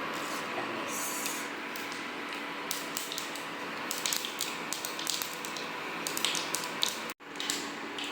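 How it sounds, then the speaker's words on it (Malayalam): Mustard seeds crackle and pop in hot oil as a curry of pappadam and egg gets started, giving a steady busy sputter with scattered sharper pops, close up and alone for about eight seconds. "കടുക് പൊട്ടിക്കണം കടുക് ഞാനിവിടെ എടുത്ത് വെച്ചിട്ടുണ്ട് അപ്പോൾ നമുക്ക് കുറച്ച് പൊട്ടിക്കാം"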